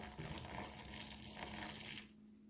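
Water pours and splashes as it drains off soaked dried fruit in a kitchen, a steady faint trickle with a low hum that cuts off near the end.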